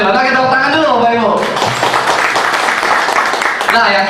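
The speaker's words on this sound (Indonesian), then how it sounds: "kita tepuk tangan dulu Bapak Ibu" Audience applause at an Indonesian Green World business presentation, a broad wash of clapping that swells after the first second and carries on steadily, mixed with a speaking voice and crowd noise.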